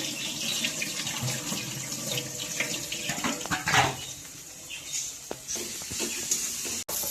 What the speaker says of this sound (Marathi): आता वाटाणा मी स्वच्छ पाण्यात धुवून घेत आहे बघा